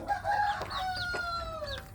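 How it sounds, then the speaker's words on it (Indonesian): Village chickens cluck and crow in a busy yard, with bright rising calls and repeated clucks overlapping steadily at moderate distance, no voices. "Saya memberi makan anak ayam kampung saya di bagian pembesaran."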